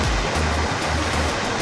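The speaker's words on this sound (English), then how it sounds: "And we've got the waterfall behind us." A waterfall pours behind a swimming water hole near Kununurra, giving a steady, full roar of rushing water that fills the space evenly with no pauses and no voices.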